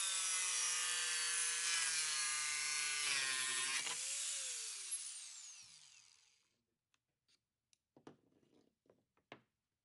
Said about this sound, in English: Rest the SawMax against the guide to begin cutting, moving the tool slowly and smoothly.